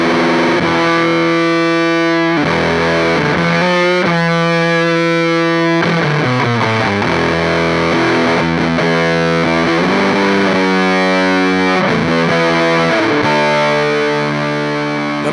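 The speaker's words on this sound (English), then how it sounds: "back to the regular sound of the pedal, again with the humbucker in play" Electric guitar through a JHS Bender fuzz pedal, played with a humbucker pickup: thick, saturated fuzz chords and riffs ringing continuously and loudly with no voices.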